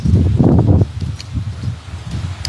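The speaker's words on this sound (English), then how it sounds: "it's hella windy. I hope the wind ain't messing up the audio" Wind blows outdoors at a park, loud rumbling gusts buffeting the microphone, strongest at first and then settling into a steadier, lower roar.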